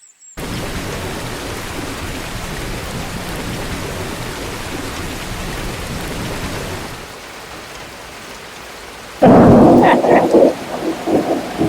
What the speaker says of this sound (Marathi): हे बघ पाऊस बघ